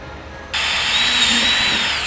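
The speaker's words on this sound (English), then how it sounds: "drill your pilot holes" A power drill whirs at high speed in one steady burst of about a second and a half, drilling pilot holes for a rear diffuser on a Kia Cerato GT sedan, starting abruptly after a short quiet moment, then cutting off.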